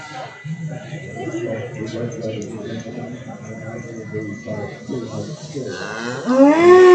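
Angus calves lowing in a cattle show ring, a deep drawn-out moo building near the end while someone talks over a PA throughout.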